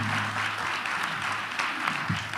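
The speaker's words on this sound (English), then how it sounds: "Big round of applause, Nakima Levy-Pounds" A forum audience for the 2017 Minneapolis mayoral race breaks into steady, dense applause that fills the whole short stretch at an even, fairly loud level.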